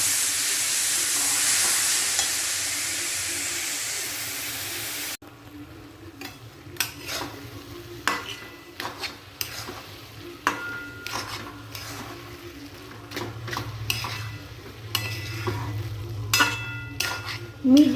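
Jaggery and coconut stirred in a pan over a medium flame for coconut laddu, giving a soft broadband sizzle at first, then scattered scraping and clinking strokes of a spoon against the pan.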